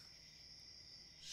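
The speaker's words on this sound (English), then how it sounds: "the crickets go by the temperature" Crickets in the FlowScape video game, a steady high continuous chirring drone, faint and alone, swelling slightly louder at the very end.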